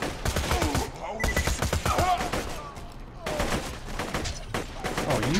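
Rapid gunfire in the video game Borderlands 2, dense bursts of close, loud shots in quick rhythmic volleys with brief pauses, over game sounds and occasional talk.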